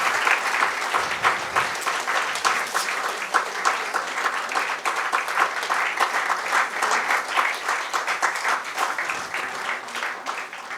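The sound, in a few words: applause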